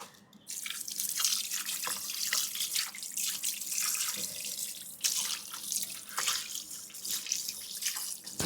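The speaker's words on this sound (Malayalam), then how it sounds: "കൈ കഴുകിയിട്ട് കാണിക്കാം, സോപ്പ് കഴുകിയിട്ട്" Hands are washed with soap under a running tap, the close, steady splash of water into a sink continuing throughout, broken by irregular spatters and drips as the hands move, with no talk.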